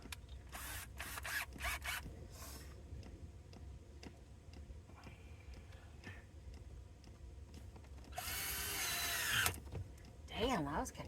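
A power drill drives screws into fittings inside a camper van, with short ticking, clicking bursts and a loud whirring spin near the end, up close and with some talk in between.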